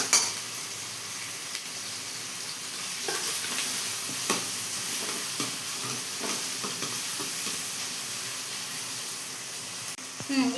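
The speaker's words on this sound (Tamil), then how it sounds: "இப்போது வந்து வெங்காயம் நல்லா சவர வதங்கிடுச்சு" Onions and tomatoes fry in a pan for a sakra fish curry, a steady close sizzle running throughout with scattered scrapes and clinks of a stirring spoon against the pan.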